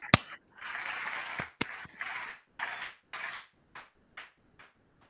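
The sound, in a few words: short applause sound effect played on podcast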